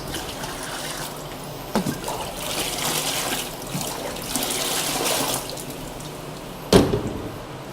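Liquid nutrient B being poured into a water reservoir of a hydroponic-style garden, a soft continuous trickle and splash with a few brief knocks and clunks, including a sharper bump near the end, no talking.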